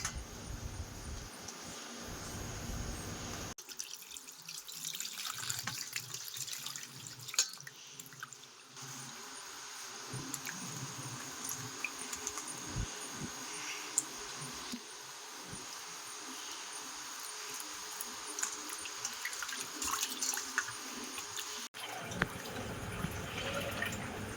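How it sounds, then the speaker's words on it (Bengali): Pieces of pangas fish are washed indoors under household tap water, which runs and splashes steadily at close range with intermittent drips and handling noises. "আর পুকুরে গিয়ে ধুয়ে আসছিস না একেবারে ঘরের জলেই ধুয়ে নিচ্ছি"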